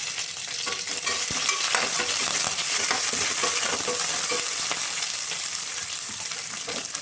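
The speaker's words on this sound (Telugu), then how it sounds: "వెల్లుల్లి ముక్కలు మంచిగా అవి వేగిన తర్వాత పచ్చిమిర్చి ముక్కలు" Garlic, green chillies and curry leaves fry in hot oil, a continuous dense sizzle with frequent stirring clatter and spatula scrapes up close.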